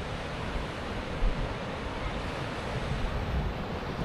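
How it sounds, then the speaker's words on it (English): Ocean waves roll through San Francisco Bay as a steady, broad wash of surf, with wind buffeting the microphone throughout and no breaks or quiet gaps. "Look at the waves."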